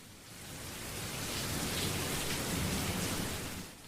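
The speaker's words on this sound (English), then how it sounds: "a diesel attached to a train couldn't be asked with the bucketing rain" Heavy rain pours steadily, a dense and fairly soft hiss that swells in the middle and eases toward the end, with no voices.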